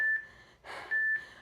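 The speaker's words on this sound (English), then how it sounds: "The happy beeps that tell you you're almost done." A workout interval timer gives two short electronic beeps near the end of a circuit, separated by a soft breathy sound.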